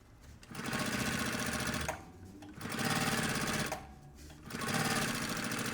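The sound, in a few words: sewing machine stitching a puffer backpack seam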